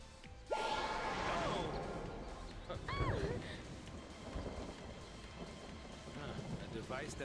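Rain and rolling thunder from a weather device in Final Fantasy XIII, a steady wash of rainfall with a sharp crack near the start and another swell midway, quiet and without talk.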